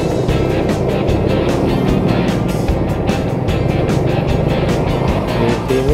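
Cargo-laden cars and trucks pass along a through road beside Pasar 46 market in Jambi, making a continuous loud rumble of engines and tires, with several vehicles going by close in succession.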